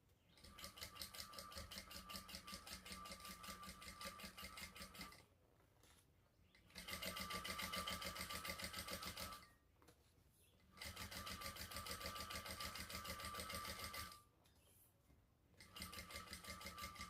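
A sewing machine top-stitches across the folded edge of a shoulder bag's front panel in four long, even runs of rapid mechanical whirring, broken by brief quiet gaps. No voices are heard.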